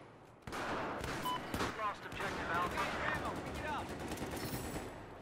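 Battlefield 4 multiplayer gunfire on PS4 rattles in bursts of rapid shots, mixed with voices talking over the fight throughout.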